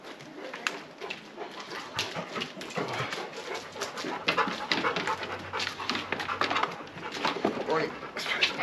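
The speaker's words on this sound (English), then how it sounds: "Wait there, the dogs are coming." Dogs come outside for a bath and pant rapidly nearby in a quick rhythmic huffing, with a person talking over them and birds faint in the background.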